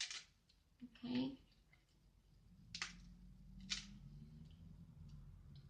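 Scissors snip a paper shadow box piece in a quiet room, with a few sparse, crisp cuts spaced apart, one short rustling snip followed by two more isolated clicks.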